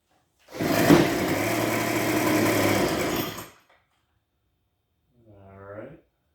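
A backpack leaf blower engine, rescued after being thrown away, catches and revs loudly for about three seconds before cutting out, followed by a brief weaker sputter after a silent gap.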